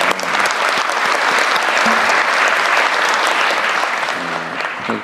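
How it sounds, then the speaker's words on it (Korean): Loud, sustained applause from an audience at a Korean government briefing on wildfire response: a thick wash of many hands clapping that holds evenly throughout before easing slightly at the end. "박수 한번"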